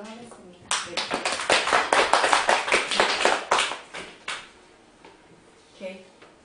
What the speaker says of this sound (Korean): 박수 한번 보내주고 시작하는 걸로 하겠습니다